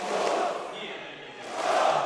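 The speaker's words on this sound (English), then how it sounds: "they started the OG chant, and then instantly there's a boo" Dota 2 esports arena crowd at the Kiev Major grand final, OG versus Virtus.pro, swells with a loud collective chant that dips and then rises again into booing, a dense roar of many voices.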